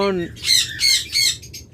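Pet birds such as lovebirds, budgerigars, cockatiels and conures squawk sharply three or four times in quick succession, loud and close, with a brief lower call at the start.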